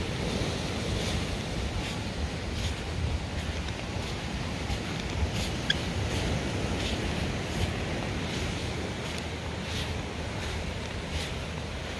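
Ocean surf on a beach at Wailea on Maui's south side, a continuous wash of breaking waves mixed with wind buffeting the microphone, fairly steady and close, with no talk.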